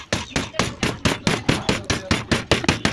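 A hammer strikes I-shaped laminations into a transformer core in a fast, even series of about a dozen loud, close metallic blows.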